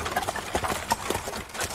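Horses' hooves clip-clop on the ground in an uneven, loosening rhythm as the animals slow down, fairly close and moderately loud, with no voices.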